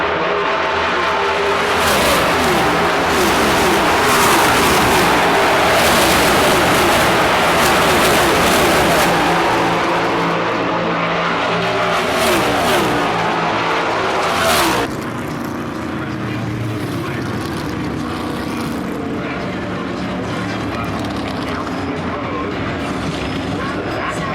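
NASCAR Cup Series stock cars roar past in a pack on the Michigan International Speedway straightaway, a loud, sustained engine wash that builds and then drops off as the traffic moves away.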